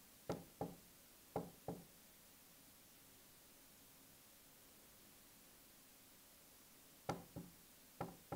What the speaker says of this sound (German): Das hat echt leicht leise geklopft.